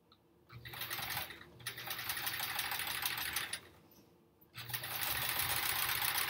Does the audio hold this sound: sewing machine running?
yes